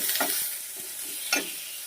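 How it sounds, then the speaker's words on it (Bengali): Onion, chilli, ginger-garlic paste and tomato fry in a pan under a steady hiss, broken by a few scraping stirs of the spoon. "সব দিয়ে মশলাটা ভালো করে কষিয়ে নেব"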